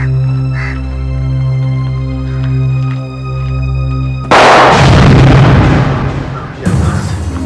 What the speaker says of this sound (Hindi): गोली चलने की आवाज है सर।